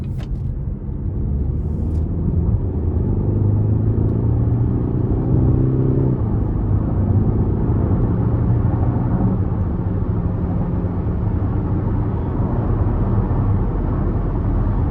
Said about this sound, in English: just under light throttle, I gave it about 1/3, and the turbo, the torque that I had low end was fantastic